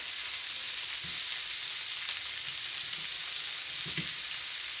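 Onions frying in a skillet for skillet potatoes, a steady broadband sizzle with a few soft low clunks from the pan, no talking.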